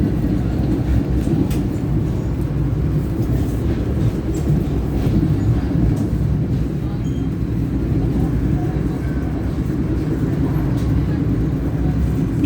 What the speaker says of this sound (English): The train, the train, the train, train, train, train, train.